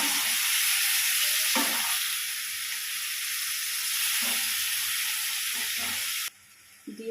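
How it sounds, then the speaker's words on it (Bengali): Tomatoes tipped into hot oil seasoned with fennel seeds, a bay leaf and a dried red chilli, sizzling and hissing loudly and steadily for several seconds before the sizzle drops off abruptly near the end. "এবার টমেটোগুলোকে ঢেলে দেবো।"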